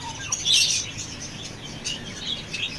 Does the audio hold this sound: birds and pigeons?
yes